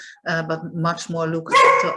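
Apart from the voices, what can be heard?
dog barking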